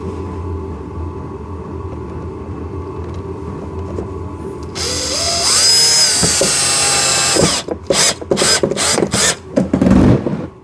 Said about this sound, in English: we're going to put a screw into that one